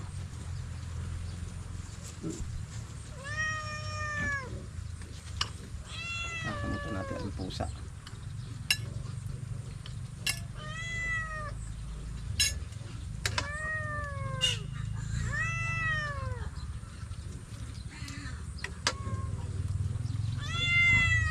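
A cat meows repeatedly, several distinct drawn-out mews spaced a second or two apart, close and clear over a low steady background hum.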